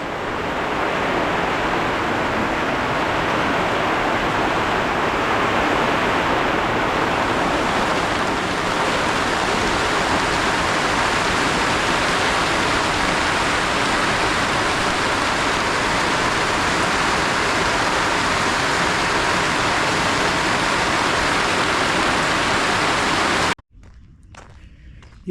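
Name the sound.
heavy rain in Kenya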